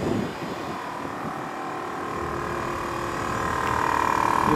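An air compressor installed in a Toyota Land Cruiser 80 Series hums in a steady continuous drone that rises slightly in pitch and intensity toward the end, with no voices over it.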